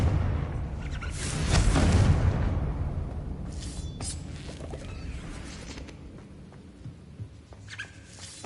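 A Confringo blasting spell explosion in Hogwarts Legacy on PS5, a deep booming blast swelling early then decaying into a long rumbling tail with scattered crackles and small clicks, fairly quiet overall.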